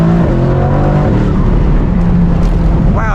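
Mercedes-AMG GT C Roadster engine under way on a track with a banked corner, a loud, close drone whose harmonic pitch shifts through gear changes, then a fresh rising rev near the end, with no talk over it.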